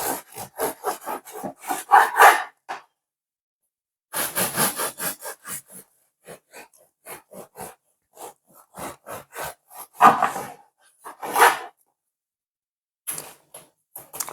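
A knife saws back and forth through pork to cut slices for a sandwich, making rhythmic rubbing strokes in several bursts with short pauses between them, close and clear.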